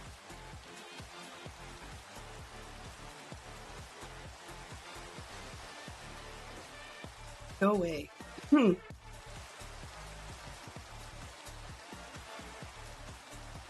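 Steady rain falling in Minecraft fills the background as a soft, even hiss throughout, with a brief spoken interjection partway through.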